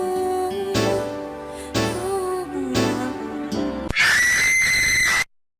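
A very loud, shrill scream blares from an online screamer animation, building through wavering tones and then jumping to a piercing sustained shriek before cutting abruptly to silence.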